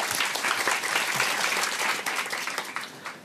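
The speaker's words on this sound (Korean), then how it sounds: "김성훈 업타운 대표님을 박수로 맞아주세요." Audience applause at a youth talk concert welcoming Kim Seong-hun, CEO of Uptown, a youth platform company in Hongcheon, Gangwon. Dense, even clapping from a large crowd runs throughout, tapering slightly at the very end.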